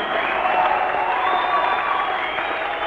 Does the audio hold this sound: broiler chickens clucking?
no